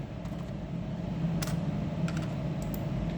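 Numbers being entered on a computer keyboard while setting up a Perfect Cut 6.2 panel-saw project, with a few light key taps over a steady low background hum.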